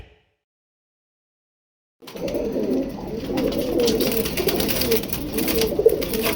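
Pigeons cooing in a pigeon loft after a couple of seconds of silence: soft, low, continuous cooing and murmuring from several birds, moderately close, with light rustling.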